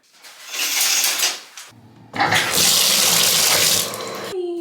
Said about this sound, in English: let's first take a shower